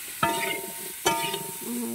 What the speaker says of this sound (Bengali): সব সবজিগুলো ভাজা হচ্ছে একে একে তেলে।